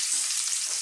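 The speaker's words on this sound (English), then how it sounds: "This is going to be quite noisy because I'm about to throw in some fresh curry leaves." Fresh curry leaves tossed into hot oil for an Indian pomfret coconut masala fish curry crackle and sizzle in a steady, bright, close hiss with no voices.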